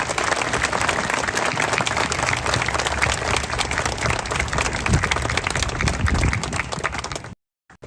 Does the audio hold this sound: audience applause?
yes